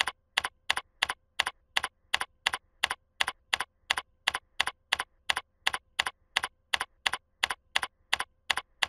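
Keystrokes on a computer keyboard while entering a Logo label command, a steady even rhythm of crisp close clicks in quick pairs, about two to three per second for the whole stretch, with no voices.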